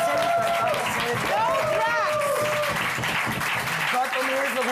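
Studio audience applause on a German late-night talk show, sustained clapping heard under and between people talking and laughing throughout.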